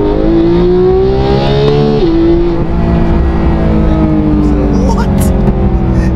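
A 2018 Porsche 991.2 GT3 with its high-revving naturally aspirated engine pulls hard on a highway, loud and close from the cabin, its pitch climbing steadily with a brief dip partway through.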